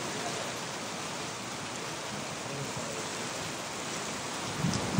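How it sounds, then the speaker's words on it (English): Steady rain pours down on a cloudy day in Costa Rica, a dense, even hiss of drops that holds at a constant level throughout, with a slightly louder rustle near the end and no voices. "So rainy."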